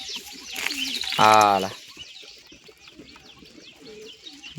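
A white pigeon, one of several tame birds sitting in a lap, lets out a single clear coo close by amid faint background chatter and someone talking.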